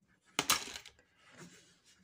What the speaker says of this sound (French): Sont mes ciseaux. Voilà, je vais couper un peu.